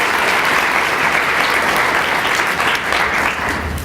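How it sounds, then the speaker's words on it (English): Sustained applause from an audience at a county government address, a dense, steady wash of many hands clapping close and loud throughout without letup. "I know it's a lot of claps, but it's worth it."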